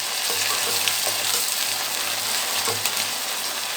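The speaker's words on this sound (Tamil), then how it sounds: "இஞ்சி பூண்டு பேஸ்ட்டு போட்டு நல்லா வதங்கிருச்சு." Ginger garlic paste sautéing in a pan while cooking bottle gourd rice, a steady close sizzle and crackle with faint stirring scrapes throughout and no talk.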